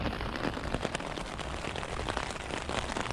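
Steady rain falls at a campsite on a bikepacking trip, a dense continuous hiss of drops with scattered sharper taps, heard from inside shelter with no talk.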